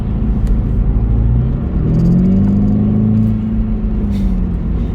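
A Volkswagen Polo 6R GTI engine roars loudly up close in a lower gear, its deep rumble swelling as it pulls hard and revs higher, then easing off.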